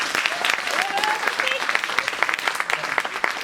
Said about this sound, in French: On peut l'applaudir très fort, hein.